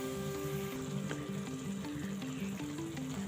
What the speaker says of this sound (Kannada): ಹುಣಸೆ ಹಣ್ಣು ಹಾಕೊಂಡ್ಮೇಲೆ 1-2 ನಿಮಿಷ ಚೆನ್ನಾಗಿ ಫ್ರೈ ಆಗೋದಕ್ಕೆ ಬಿಡಿ. ಇದನ್ನ ನೋಡಿ ಚೆನ್ನಾಗಿ ಕುದೀತಾ ಇದೆ.